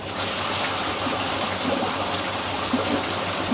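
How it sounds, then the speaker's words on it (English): Pumped water filling a hydraulic flume, a steady rushing and trickling flow heard throughout at moderate level, with no talking. "So I'm going to turn the pumps on. It'll just take a while for the pump, for the flume to prime."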